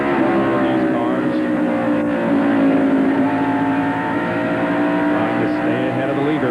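NASCAR Winston Cup stock cars racing at Bristol International Raceway in the 1994 Goody's 500, a steady, loud roar of engines with layered revving tones throughout, with commentary voices running underneath.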